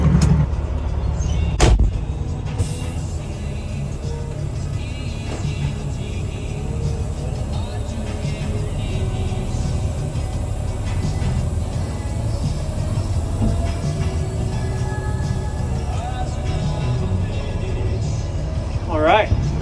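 A Steiger tractor pulls ahead after being unhitched from a trailer, its steady low engine rumble running loud and continuous throughout, with a brief clank near the start.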